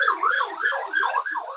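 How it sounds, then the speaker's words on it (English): A wailing siren rises and falls in quick repeated cycles, fairly loud and close, with no talking. "Excuse the sirens."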